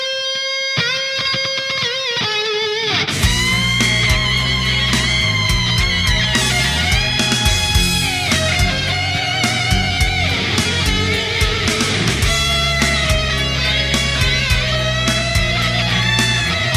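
Electric guitar playing full chords through an ambience reverb pedal, washed in lush, spacious reverb, the notes ringing out and blending into a long shimmering tail.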